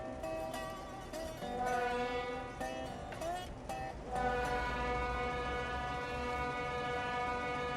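Diesel locomotive in a Train Simulator railroad switching game at Columbia Falls, a steady engine drone with strong harmonic tones that swells louder partway through and keeps running continuously, no talk over it.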